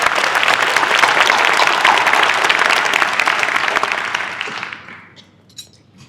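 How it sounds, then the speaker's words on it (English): Audience applause for the Rongila Dance Company after their performance at a Port event, a dense sustained clapping crowd that fades out over the final second with a few scattered claps. "Let's give them another round of applause."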